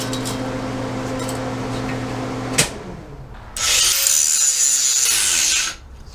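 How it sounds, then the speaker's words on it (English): A power grinder works down hot metal to a flat surface, first a loud steady whine with a hum, then a brief pause before a harsh, bright grinding burst lasts about two seconds and stops. "Now unfortunately I have to grind that down so I can get a nice flat surface again."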